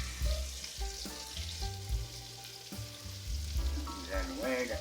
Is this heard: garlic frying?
yes